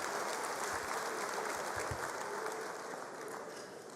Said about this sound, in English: let's give them a big hand of applause